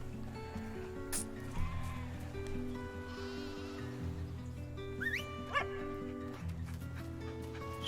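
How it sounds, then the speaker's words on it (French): A shepherd dog in a video game trailer barks and yelps a few times amid a busy, loud music bed, the dog calls short and partly masked by the score. "Un chien."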